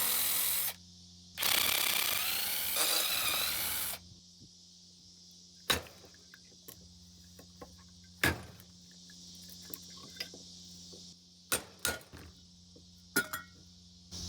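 Quarter-inch bolts being worked loose from an electric motor for scrap: a loud rasping ratchet burst early on, then sharp isolated metallic clicks and clinks spaced a few seconds apart over a quiet steady hum.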